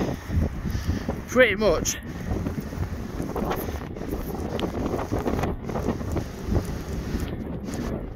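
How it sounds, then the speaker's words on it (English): Strong outdoor wind buffets the microphone in a constant roaring rumble with gusty swells, while someone speaks briefly over it. "it's an immense amount of wind"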